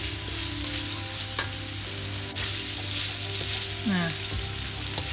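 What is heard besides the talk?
curry spice paste frying in oil for goat curry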